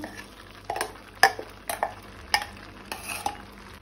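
Tomatoes and ground spices stirred into a potato, cauliflower and green pea vegetable bhaji in a pan, with several distinct spoon scrapes and clinks against the pot over a faint sizzle.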